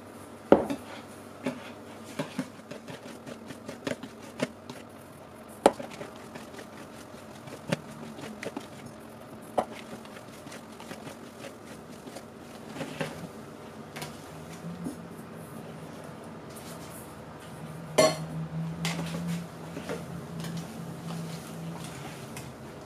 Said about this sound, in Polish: Delikatnie będziemy dosypywać i mieszać.